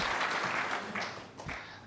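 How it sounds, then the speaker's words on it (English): Applause ripples through a snooker arena at the World Championship final after a tough pot, a brief, moderately faint burst of clapping that swells and tails off. "This little lad there applauding from the wings."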